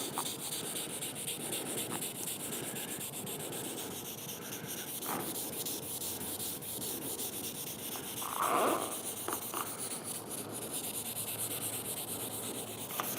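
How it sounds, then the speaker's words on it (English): Steady, close abrasive rubbing of sandpaper across a scratch, continuous with slight variations in stroke. "Sometimes sanding is better than introducing all this heat."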